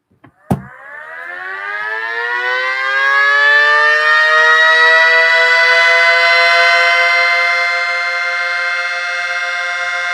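Two mini SD-10 sirens start together after a click and wind up, their rising wails merging into a loud, sustained howl that holds steady.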